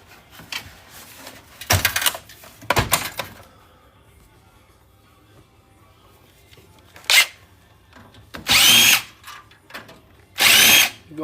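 A handheld power drill backs screws out of an older desktop PC tower's metal case in several short, loud whirring bursts separated by pauses, with faint clattering between runs.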